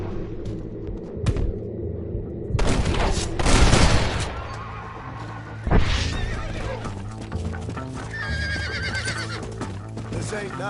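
Horses neigh and whinny in a Red Dead Redemption shootout, with hoofbeats clip-clopping, gunfire bursts and rumbling score layered beneath; voices shout over the commotion.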